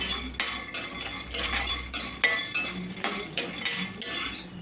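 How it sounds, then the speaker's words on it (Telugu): Peanuts are dry-roasted in a pan for a bean fry masala, tossed with a spoon in a regular rhythm of scraping strokes and rattling clinks, loud and close, with no talking. "నా ఈ శనగిత్తనాలు వేగే ఉన్నాయండి అందుకనే నేను ఒక టూ మినిట్స్ అయితే వేయించుకుంటున్నాను"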